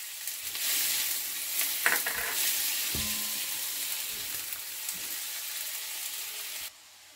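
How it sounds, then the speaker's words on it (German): Onions sweating in butter in a frying pan, a steady close sizzle with a few stirring scrapes and clicks, then a sudden cut to quiet near the end. "die Butter kann sie reintun in eine Pfanne und Zwiebeln."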